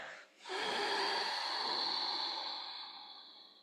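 During a yoga flow, a single long exhale through the nose and mouth rises quickly after a brief inhale and then fades slowly over about three seconds, close and fairly quiet.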